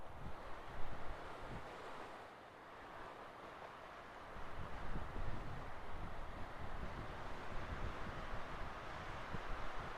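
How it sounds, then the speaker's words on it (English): Wind blowing outdoors, a loud, broad rushing roar with gusty buffeting against the microphone, easing briefly before building again, steady and without voices. "I usually hate the wind so much, but right now it feels really soothing."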